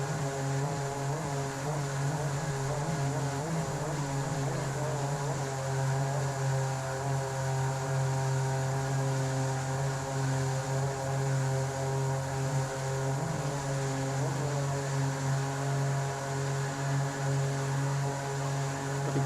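A jet boat runs on a British Columbia river with a continuous loud engine and jet drone, steady and close, with a slight rise and fall in pitch and no talking.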